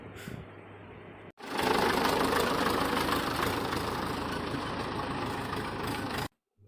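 After a brief quieter moment, a tractor engine idles close by at a brick kiln with a steady rumbling chug for several seconds, then cuts off.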